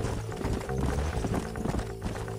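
Several horses gallop in the Western video game Red Dead Redemption, giving a loud, close, continuous rumble of rapid overlapping hoofbeats.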